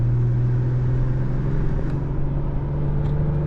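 An Acura TLX Type S engine fitted with a PRL high-flow air filter hums at a steady, close, low drone with a faint rise in pitch, heard alone without talk.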